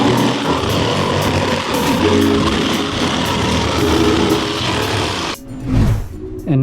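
A power saw cutting holes in an aquarium cabinet, a continuous loud rattling, buzzing grind that stops briefly near the end, then a short burst of handling noise and a restart.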